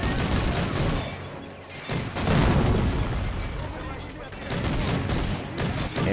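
In the Men of War: Assault Squad 2 battle of Balaton 1945, an anti-aircraft gun fires repeated booming bursts among rumbling battlefield explosions, loud and continuous, with a voice talking over the top.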